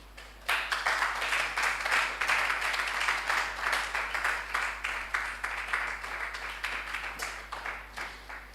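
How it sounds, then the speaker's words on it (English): A crowd at a tertiary school business quiz contest bursts into a round of applause welcoming two schools to the stage, dense clapping starting abruptly and holding strong for several seconds before slowly thinning out. "join me with a round of applause as I welcome the two schools to"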